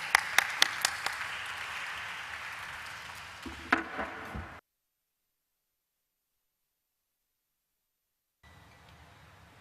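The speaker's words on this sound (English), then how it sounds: "Let's have a huge round of applause for her" Audience applause at the Senco Gold Limited listing ceremony, a brief burst of scattered claps that fades after a few seconds, then silence and faint room noise.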